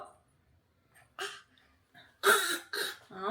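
A baby's playful fake cough, a few short throaty bursts close to the microphone after a quiet pause, with an adult voice heard faintly earlier.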